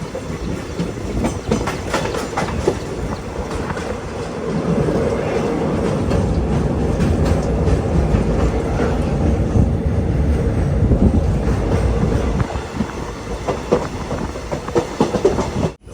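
The Mangaluru Express pulls into Thalassery railway station with a steady rolling rumble and clickety-clack of wheels that swells and then eases off, heard alone without speech.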